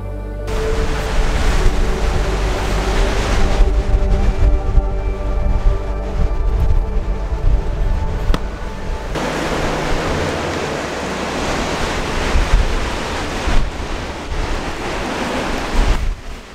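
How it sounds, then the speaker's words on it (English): Storm waves crash and churn beneath Paignton Pier in Devon during Storm Freya, a loud continuous roar of surf mixed with gusting wind buffeting the microphone and a steady low-frequency rumble, with no voices. "It's lashing with rain and very windy"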